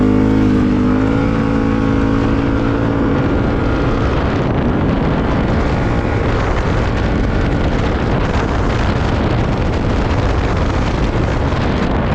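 A Can-Am Outlander ATV set in 4-wheel drive pulls off, its engine roaring loud and close in a steady, heavy drone with rushing wind noise throughout.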